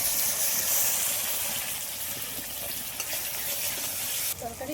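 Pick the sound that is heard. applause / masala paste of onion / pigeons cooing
masala paste of onion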